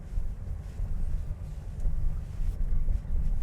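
A 2024 Mercedes Marco Polo van pulling away, heard from inside as a steady low engine and road rumble with some wind noise, moderately loud and without talk.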